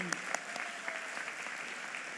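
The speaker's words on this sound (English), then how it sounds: "can we give another round of applause for our mayor on this 100th day celebration?" An audience applauds Mayor Cherelle L. Parker at her 100th-day celebration, a fairly soft, even patter of many hands clapping throughout, with a few sharper individual claps standing out.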